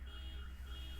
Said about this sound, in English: Someone's alarm going off.